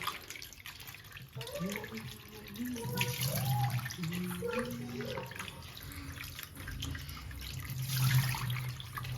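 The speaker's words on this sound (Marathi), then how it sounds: "सगळ्यात पहिल्यांदा आपण त्याला स्वच्छ पाण्याने धुवून घेऊया" Fresh prawns being rinsed in clean running water in a sink, a steady wash of water with splashing and handling sounds throughout, with faint background tones.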